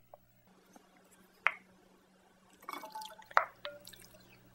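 Thick homemade salsa pours from a container into a serving bowl, giving a few scattered wet drips and soft glassy plops against a quiet background, with no voices.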